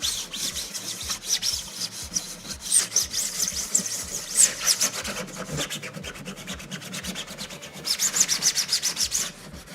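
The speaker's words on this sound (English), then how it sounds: "a hand sandpaper like this is quite good for the cracks" Hand sandpaper rubs back and forth across the body of a VTOL dropship aircraft model, producing close, rhythmic scratchy strokes that come in bursts, louder toward the end.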